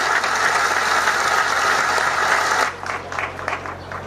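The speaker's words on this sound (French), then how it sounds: "Je demande à l'assistance d'applaudir" Audience applause for graduates at a graduation ceremony in Bukavu, a dense steady clapping that fills the room, then thins into scattered claps near the end.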